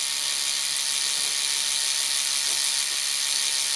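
A buzzing tattoo pen runs steadily and close while marking a rabbit's ear before a show, a constant high whir with no pauses.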